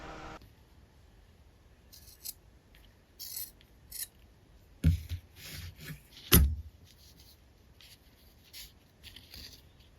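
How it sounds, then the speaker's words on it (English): Scissors trim excess linen fabric from a button-down shirt in a series of crisp, close snips and rustles, spaced irregularly, with two sharper louder cuts midway and no talking. "Trim off any excess."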